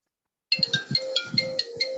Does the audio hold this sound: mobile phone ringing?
yes